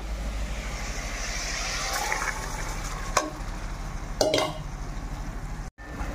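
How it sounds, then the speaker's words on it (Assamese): Joha rice and mutton fried together in a pan for tehari, giving a steady close sizzle with a few louder scraping stirs and a brief gap near the end, with no speech. "জহা চাউলটো আৰু মটনটো একেলগে ভাজি ল'লোঁ"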